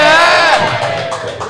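A crowd at a live baseball talk show in Santa Monica cheers and whoops in a loud, close burst that swells briefly and then tapers off.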